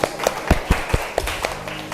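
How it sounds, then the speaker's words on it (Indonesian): A class claps together after a lesson, a burst of short sharp hand claps with uneven spacing, close and moderately loud, running through the whole moment with no talking. "tepuk tangan buat kita semua nak"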